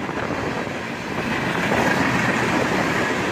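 A CSX northbound freight train of empty flat cars rolls past close by in a steady, loud rumble with a faint rhythmic clatter of wheels on rail.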